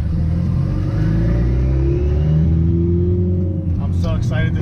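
A turbocharged Honda Integra engine revs loudly and steadily for several seconds during a gentle pull, its rising and falling drone heard close up with some talk over it.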